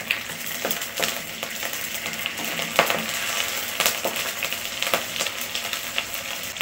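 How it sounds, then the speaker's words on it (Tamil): Dried chilies, cloves and curry leaves sauté in hot oil in a pan, giving a steady close sizzle broken by light scraping stirs, with no voices. "மிளகாய் கருவேப்பிலை எல்லாம் நல்லா வதங்கி வருது."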